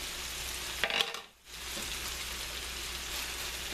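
Spinach and mushrooms sizzling with shrimp in a pan over a high flame, a steady close crackling hiss with a brief dip as the food is stirred.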